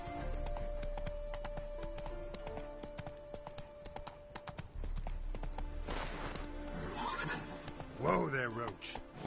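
Roach the horse gives a whinny near the end, a rising, wavering neigh that rises above steady clip-clop hooves and background game music and effects.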